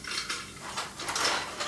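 Dishes and cutlery clatter and clink during dishwashing, a few quick bright knocks and scrapes close by, with no talk.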